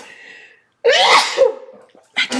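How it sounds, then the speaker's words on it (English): A single loud, close human sneeze bursts out after a brief quiet pause, followed by a short sharp breath or sniff. "I'm gonna sneeze."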